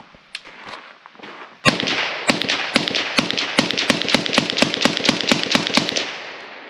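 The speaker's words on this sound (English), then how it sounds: "we'll go ahead and insert a video of the Sandman K with supersonics out of this 9-inch" Rapid, sharp suppressed rifle reports from a Sandman K suppressor on a 9-inch-barrel CZ Bren 2 firing supersonic 7.62x39, about sixteen loud cracks in quick succession after a few faint taps, with no talking.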